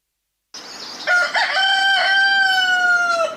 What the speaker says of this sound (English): Were is now into chicken farming, a new assignment that sees him supply eggs in Kisumu and Uasin Gishu counties